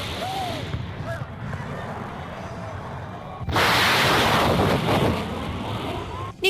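A sudden loud boom and rushing blast strikes midway, as a shock wave from low-flying Mirage 2000 jets shatters the glass façade of the Supreme Federal Court building. Windy background noise comes before it, and a voice can be heard.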